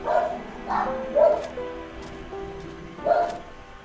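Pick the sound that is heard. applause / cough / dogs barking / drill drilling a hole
dogs barking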